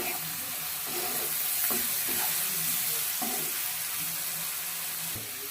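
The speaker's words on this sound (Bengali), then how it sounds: "পেঁয়াজ দিলাম এক চামচ হলুদ দিলাম এক চামচ লবণ দিলাম ভালো করে নেড়ে দিয়ে" Sliced onions with turmeric and salt frying and being stirred in a pan for mutton curry, with a steady bright sizzle and irregular soft scraping and clinking strokes throughout.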